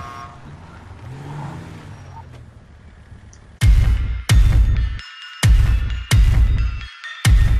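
Game vehicles in GTA Online roar through a run of loud engine bursts with hard cuts and short silences between them, after a quieter stretch of low rumbling engine noise. No one speaks.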